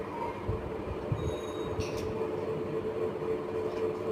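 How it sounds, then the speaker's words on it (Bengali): A train pulls into a station in the Indian Bikes Driving video game, giving a steady low rumble and hum that continues for the whole stretch with no voices. "ট্রেন তো আমাদের অনেক আগে এসে পড়েছে"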